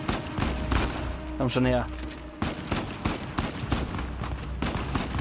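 Rapid automatic gunfire in Uncharted 4, a steady rattle of shots up close, with someone speaking German briefly over it.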